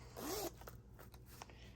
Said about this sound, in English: hopefully I can unzip the zipper and put a card through there